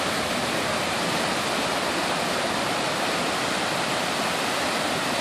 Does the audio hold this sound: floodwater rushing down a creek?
yes